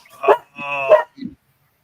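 A dog indoors in a house gives a short bark, then a drawn-out whining whimper, then a smaller yip, each close and fairly loud with quiet gaps between.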